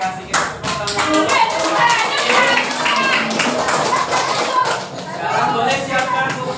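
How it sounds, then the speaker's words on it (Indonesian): Schoolchildren in a classroom clapping their hands together on cue, a steady scattered patter of small hands lasting several seconds, with children's voices chattering underneath. "Kita tepuk tangan dulu"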